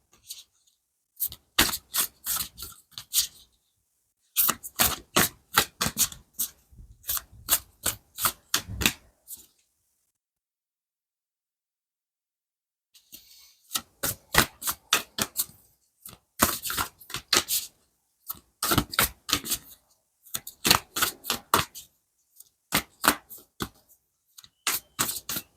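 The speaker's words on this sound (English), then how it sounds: "We are doing live shuffling, as always." Tarot cards shuffled live at close range, crisp rapid riffling bursts in quick flurries, then a pause of several seconds before the shuffling resumes in repeated rapid runs.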